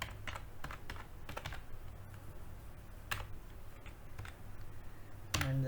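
Typing on a computer keyboard while entering plot labels in MATLAB: scattered clusters of sharp clicks and key taps at close range, irregular in rhythm with brief pauses, over a low steady hum, with no talking.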